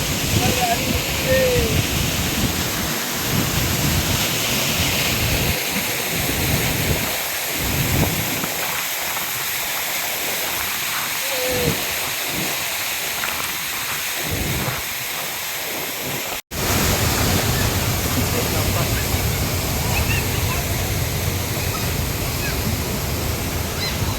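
The Hogenakkal waterfall roars with broadband rushing river water and spray, loud and continuous throughout, with faint voices mixed in.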